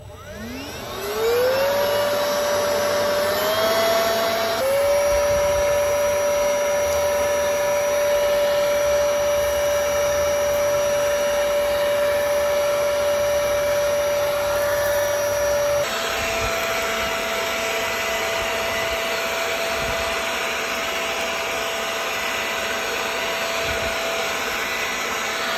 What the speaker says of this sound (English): That is the Lazyboi leaf blower.